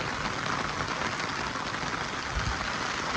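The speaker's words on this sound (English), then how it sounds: "it's raining real hard" Heavy rain pours down outdoors in a backyard in Jamaica, a dense, steady hiss of drops with no pauses and no voices.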